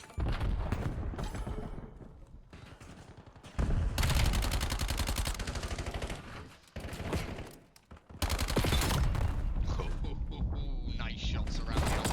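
Heavy gunfire from a first-person shooter video game, with dense automatic bursts and overlapping shots that fill the clip almost continuously, apart from a short lull. A commentator's voice runs underneath.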